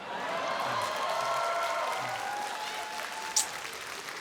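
Audience applause fills the room in a steady, dense wash of clapping with light cheering mixed in, holding at moderate loudness for several seconds before a brief sharper peak near the end.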